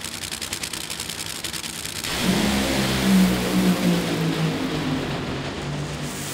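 A nitro funny car fires up and runs during a drag racing qualifying session at Norwalk on a wet Friday night, a sudden loud, thick engine roar bursting in after a quieter lead-in and holding strong to the end.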